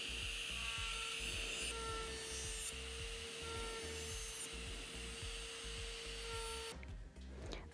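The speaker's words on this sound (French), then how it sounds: "on va pouvoir venir travailler à la ponceuse pour venir retirer l'excédent de produit" An electric nail drill with a carbide bit grinds excess product off a fingernail, a steady high-pitched whine with scratchy rasping as the bit works the nail, briefly interrupted near the end.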